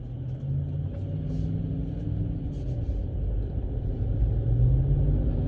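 A car rumbles past nearby, its engine a steady low drone that swells slightly toward the end, heard alone with no talking.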